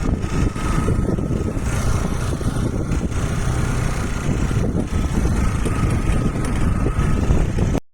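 Scooty scooter ridden along a rural road, with the engine's steady hum and strong wind rush continuing throughout before cutting off at the end.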